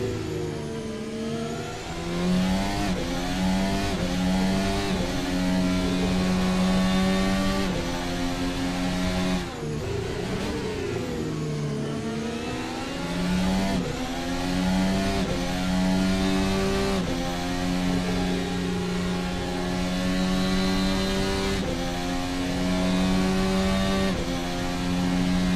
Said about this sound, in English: Cars are so planted coming through the carousel. Full throttle, full beans in 8th gear.